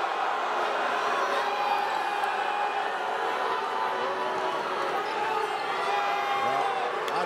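A packed basketball arena crowd murmurs and stirs in a steady, loud wash of noise after a disputed referee call, with no single cheer standing out.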